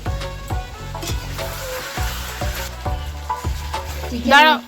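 Chopped onions frying with yogurt in a pan for chicken kosha, stirred: a steady sizzle with a string of regular scraping knocks, close, ending in a brief louder rattle.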